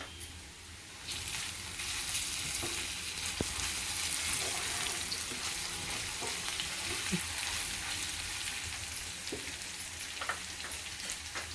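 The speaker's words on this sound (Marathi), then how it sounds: "आता आपण आलं लसूण टाकूया हे आलं लसूण मी ठेचून घेतलेलं आहे" Crushed ginger and garlic hit hot frying onions in a pan for mutton liver masala, giving a steady, close, loud sizzle with occasional stirring clinks throughout, no talking.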